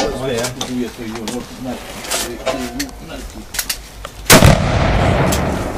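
A single sharp gunshot fired at a shooting target, loud and close, rings out late in the moment after a stretch of people talking and calling out.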